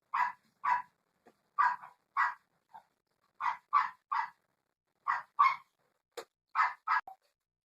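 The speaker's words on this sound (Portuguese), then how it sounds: "Os cachorros latindo." Several dogs barking at night, short sharp barks in irregular bursts with brief pauses, moderately near and alone without talk.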